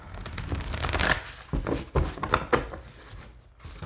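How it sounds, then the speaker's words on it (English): Tarot cards shuffled by hand, a run of soft riffling and papery flutters broken by a few short slaps and thumps, close up and moderately quiet with no talking. "I think I already shuffled these, but I'm going to shuffle again."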